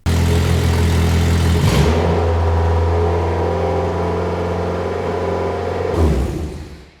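The engine-swapped Peugeot 106 runs loud and close, its idle climbing on its own with a steady droning hum and a surge in revs near the end before it eases off.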